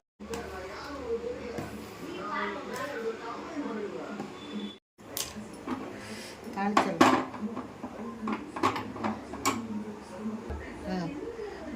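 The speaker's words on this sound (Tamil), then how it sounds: "மூடி வச்சிடலாம் கொதிக்கட்டும்" Metal kitchenware clatters and clinks near the microphone while cooking sambar, including a lid set on the pot to let it boil, while a person talks over the clatter.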